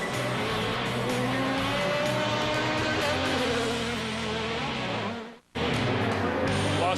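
Pro Lite off-road race trucks race at Las Vegas Motor Speedway, a dense, continuous whine of several engines buzzing past. It cuts out briefly near the end, then resumes at full volume.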